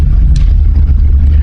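A pickup truck engine revs loud and low, holding a steady heavy drone close by while pulling against a tight rope uphill.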